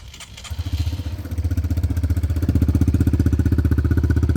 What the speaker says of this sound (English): Now your dirt bike's on.